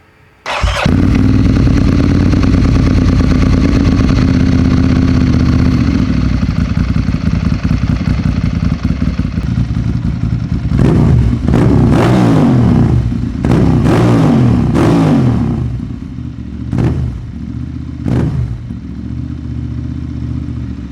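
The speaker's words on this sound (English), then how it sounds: "We're gonna go ahead and start it up, take a listen to this exhaust" A Ducati Monster 796 motorcycle fires up and idles loudly and steadily through its exhaust, then several sharp throttle revs blip up and settle back down.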